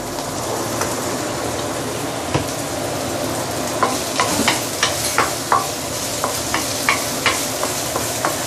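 Pork pieces stir-fried in hot oil on a very fast stove as the base for a braised pork leg with herbs, giving a steady close sizzle with a run of sharp scraping stirs and clicks in the second half.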